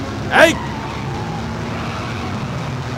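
A car driving fast in a movie chase gives a steady, low engine drone throughout. A brief raised voice cuts in near the start.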